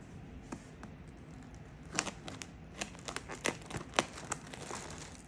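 A huge knife cuts through a New Orleans king cake, making soft crinkling and tearing crackles in a loose irregular run of small clicks, fairly faint and close.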